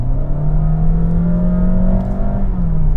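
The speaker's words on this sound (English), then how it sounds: "The engine just makes a noise like the clutch is slipping, and it really complains" A 2022 Honda HR-V engine strains loudly under acceleration, sounding like a slipping clutch, a droning tone slowly climbing in pitch, heard from close inside the vehicle.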